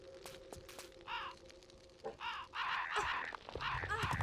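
Crows caw repeatedly in the Tomb Raider III game, harsh rasping calls coming in bursts, some overlapping, over a low background with occasional game sound effects.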